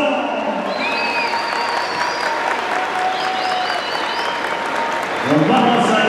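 A rodeo crowd at a jaripeo applauds for a bull, sustained clapping and crowd noise mixed with a voice over a loudspeaker, swelling louder near the end.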